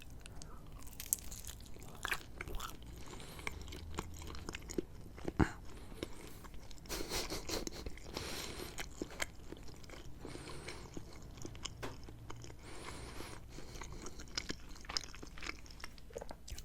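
Close, crisp bites and steady chewing of pizza topped with ranch and sriracha hot sauce, with crunchy, moist mouth sounds repeating throughout and no talking.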